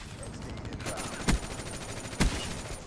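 Two sharp gunshots crack from a shooter video game, the second a headshot, with a dense bed of game sound and faint background gunfire running underneath.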